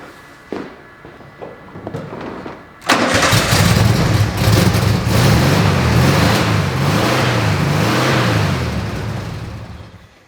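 Car engine cranked with a jump starter box: a few short starter attempts, then the engine catches and runs loud and close at a steady idle that eases slightly toward the end.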